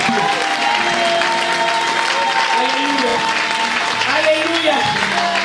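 A church congregation claps and cheers continuously and loudly throughout, with voices and shouts mixed into the dense applause.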